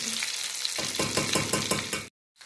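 Papa rellena, stuffed potatoes, sizzle and crackle in hot frying oil with a rhythmic series of bursts as they are stirred or turned, close and steady, cutting off abruptly near the end.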